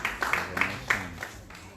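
Light, sparse applause for a singer at an album presentation, a handful of separate claps spread over a couple of seconds, fairly faint and thin.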